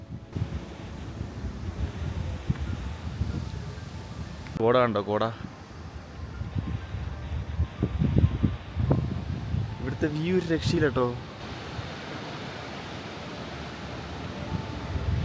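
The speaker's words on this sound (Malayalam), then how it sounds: "അവിടെ നിന്ന് നല്ല ശബ്ദം കേൾക്കുന്നുണ്ട്. കാറ്റിൻ്റെയാണ് ആക്ച്വലി. നല്ല കാറ്റടിക്കുന്നുണ്ട്." Strong gusty wind on a hillside buffets the microphone throughout, with a low roaring rush; people speak briefly over it.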